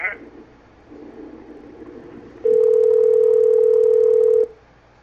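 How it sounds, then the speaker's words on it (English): A phone rings during a call: after faint background murmur, a loud, steady electronic ringing tone sounds for about two seconds and then cuts off. "Are you hearing this ringing too?"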